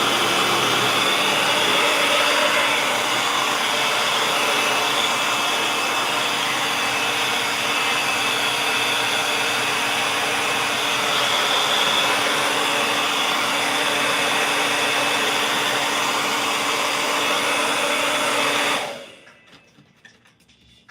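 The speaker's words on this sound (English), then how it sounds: "I'm gonna pull out my turbo dryer" Turbo dryer blowing on an 8x10 canvas to dry paint, a loud steady whooshing roar with a constant hum held for about nineteen seconds before it switches off abruptly, leaving near silence.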